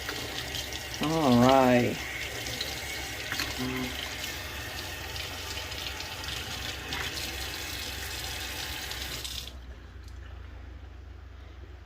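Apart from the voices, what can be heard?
water running, rinsing hands under tap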